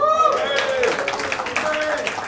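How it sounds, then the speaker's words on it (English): Comedy club audience at a stand-up show giving brief applause, scattered clapping under a voice talking. "Round of applause if you say Mumbai."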